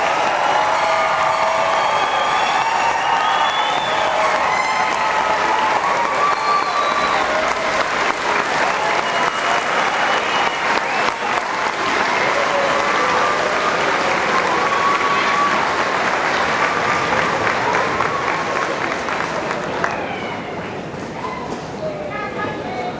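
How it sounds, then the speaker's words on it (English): A large crowd at a 2016 high school commencement ceremony applauds the graduating class in a long, loud, dense roar of clapping that holds steady for over twenty seconds, with scattered voices and cheers mixed in. "Let's give a big round of applause to the class of 2016."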